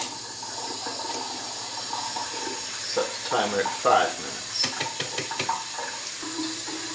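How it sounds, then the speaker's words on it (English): Tap water runs steadily into a sink while developed 120 roll film is washed in a tank, with a voice speaking over the flow and a few brief clinks and bumps of handling midway. "And now we do a final 5 minute wash under running water."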